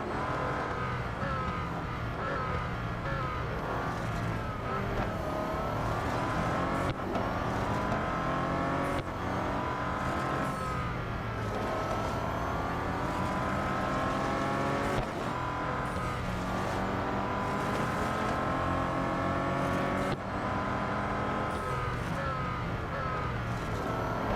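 Race car engines roar continuously in the Real Racing 3 video game, several cars running close together with steady high revs and rising, shifting engine tones, loud and unbroken throughout.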